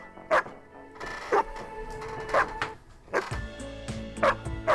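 A dog barks in short, separate outbursts, roughly one per second across several seconds, fairly close and loud, with yips and whimpers between the barks.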